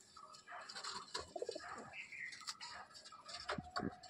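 Pigeons in a loft coo softly and repeatedly at close range, with scattered wing flutters, faint ticking and a little quiet human speech in the background.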